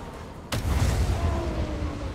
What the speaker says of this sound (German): Es gibt hier die ersten Schüsse.